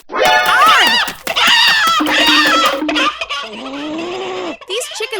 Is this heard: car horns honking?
no